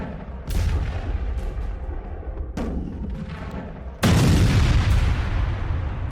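A US missile strike on a Venezuelan boat at sea: a loud blast, a second heavy boom a couple of seconds later, then a third, most powerful explosion with a long, roaring tail.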